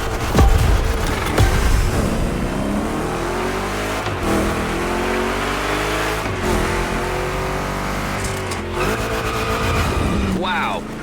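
Chevy big block engine revving hard in The Crew Motorfest, loud and continuous with rising and falling pitch sweeps as the car accelerates, plus brief tire squeals through rough turns, while someone talks over it.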